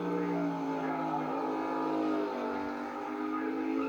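A Sealy Westlake racing motorcycle howls around a road circuit in Kells, southern Ireland, its engine note held high and steady with shifting pitch as it races past at a distance.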